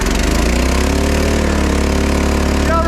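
An old Slave Leg air compressor runs steadily close by, a loud, even, pulsing engine chug with a continuous mechanical drone throughout and no pauses.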